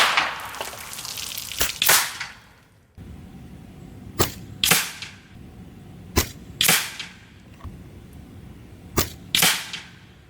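A Taipan Slash semi-automatic PCP air rifle fires .22 pellets in a string of sharp, close, loud cracks. The shots come in quick pairs and singles spaced over several seconds, with no voices.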